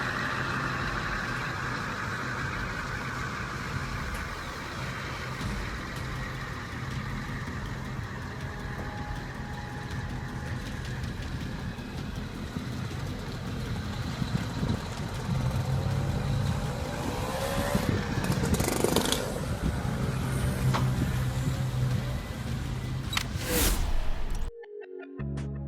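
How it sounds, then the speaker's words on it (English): A heavy truck's diesel engine drones steadily while it slowly hauls a 130-ton heat exchanger, 5 meters wide and 19 meters long, on a specialized trailer. The rumble is continuous and swells slightly partway through before cutting off abruptly. "The company carefully hauls a massive circular structure, unique, bulky, and incredibly awkward to balance."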